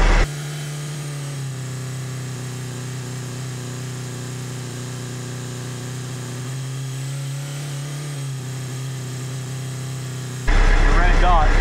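A VW Bus engine with dual carburetors idles steadily and close, a constant low hum and drone held through most of the stretch before a louder, rougher burst at the end.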